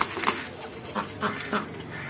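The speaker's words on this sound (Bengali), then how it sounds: "ওই আমার হাঁসও আছে, ওই যে প্যাক প্যাক করতেছে।" A duck on a rural homestead gives several short nasal quacks spaced irregularly, fairly close and clear over a light outdoor background with no talking.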